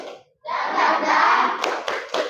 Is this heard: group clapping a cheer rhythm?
yes